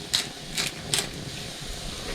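A pepper grinder cranks pepper onto corned beef hash in a narrowboat kitchen, making three quick gritty ratcheting twists, close and fairly quiet over a low background hum.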